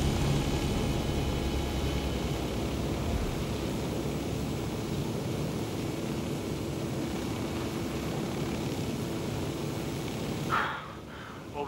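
A helicopter flying low in Ghost Recon Wildlands, a loud continuous rotor and engine roar that holds steady throughout, then drops away abruptly near the end, no talk.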